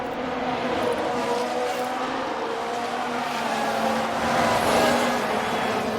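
Engines of Formula 1 race cars in the F1 Manager video game at the Miami Grand Prix, a steady loud layered drone of many cars together at the start, with no talk.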